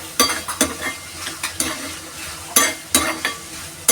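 Hot chili frying in a pan while being stirred with a utensil: a crisp steady sizzle broken by a series of sharp scraping strokes that come in irregular bursts, loud and close.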